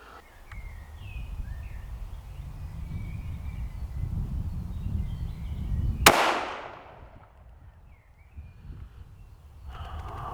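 A single sharp rifle shot cracks at an outdoor shooting range, loud and close, with a quick fading echo, against a quiet backdrop of low rumble and distant birdsong.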